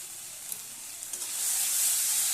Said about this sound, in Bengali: ভালোভাবে মশলাটা কষিয়ে মটরটা দিয়ে দেবো।